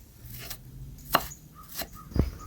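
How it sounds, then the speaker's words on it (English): Knife chopping vegetables on a cutting board for pumpkin stew, a few sparse, quiet chops with pauses between them. "And then I'm going to chop them."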